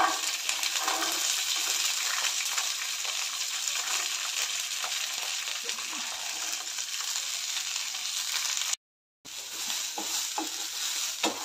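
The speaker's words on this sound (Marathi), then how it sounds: "तेल घालून आधी आपण गवारी भाजून घेऊयात।" Cluster beans (guar) roast in hot oil in a pan, giving a loud, dense, continuous sizzle with occasional stirring scrapes, close up, broken by one brief silent gap near the end.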